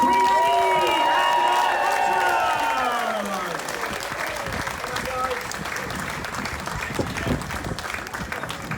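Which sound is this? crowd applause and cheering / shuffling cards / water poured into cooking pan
crowd applause and cheering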